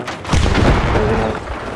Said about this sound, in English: Frag grenades it.